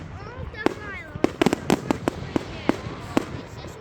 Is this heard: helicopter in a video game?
no